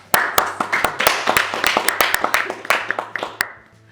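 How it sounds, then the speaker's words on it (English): A small group clapping for a guest at a school talk event, sharp distinct claps in an uneven rhythm, close and clear, lasting a few seconds before stopping abruptly. "Give applause to Claudia."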